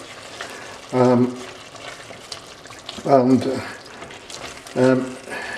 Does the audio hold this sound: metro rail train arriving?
no